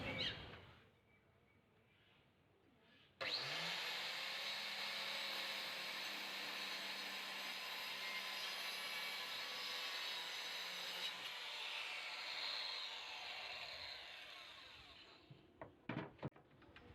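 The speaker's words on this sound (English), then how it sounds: "So we'll try to use a circular saw and let's see how it goes." Circular saw cutting wood, the motor spinning up abruptly into a loud, sustained, close whine with blade rasp for about eight seconds, then winding down, followed by a few sharp knocks and clatters.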